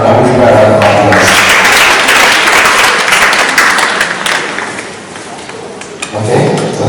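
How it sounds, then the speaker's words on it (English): Audience at a women's business summit breaks into sustained applause, dense clapping that stays loud for several seconds before thinning out at the end. "I will give her a round of applause."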